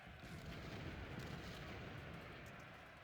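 Sustained rumbling barrage of Civil War cannon fire in Ultimate General: Civil War, dense overlapping booms blurring into a continuous roar with no breaks.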